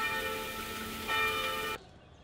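Church bells ring with a steady, resonant tone that swells briefly in the middle and then cuts off abruptly near the end, fairly close and alone without talk.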